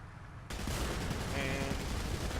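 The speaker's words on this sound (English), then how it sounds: "I just start shooting everything" Continuous dense gunfire in a War Thunder simulator battle, a loud sustained wash of rapid shots starting abruptly and rattling on without pause.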